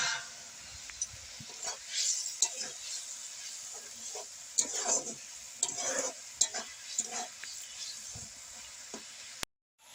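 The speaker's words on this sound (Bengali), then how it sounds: "ধনিয়া পাতাটা দিয়ে একটু খুন্তি দিয়ে নেড়ে নেব" A spatula stirs a Bengali fish curry (amudi macher jhal) with coriander leaves in a pan, giving soft scraping strokes and irregular clinks over a constant faint sizzle, with quiet background sounds and no clear talk.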